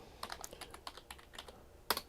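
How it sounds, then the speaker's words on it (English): Computer keyboard typing, close and fairly quiet, with irregular rapid key clicks throughout and a sharper burst of keystrokes near the end. "I have to look at the keyboard because when I'm drunk, I can't type that good."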